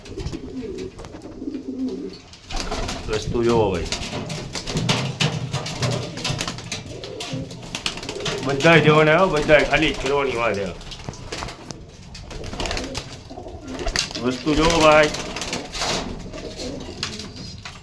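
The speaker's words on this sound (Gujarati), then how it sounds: "બધાય કબૂતર એક એક દેખાડી દઉં" Pigeons cooing in a large loft holding many breeds, soft repeated coos running under continuous close male speech throughout.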